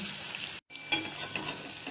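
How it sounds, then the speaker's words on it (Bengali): Steady, loud sizzling of potatoes frying in hot oil, with a brief silent break before the crackling resumes. "আলুটা আর একটু ভাজবো"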